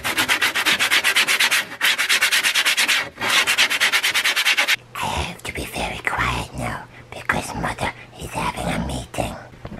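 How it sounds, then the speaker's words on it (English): Low-grit sandpaper rubbed over rough edges of scrap wood, a loud, fast rhythmic scratching in quick back-and-forth strokes, then slower, more uneven rasping passes after a short pause. "go over these rough edges with a little bit of low grit sandpaper"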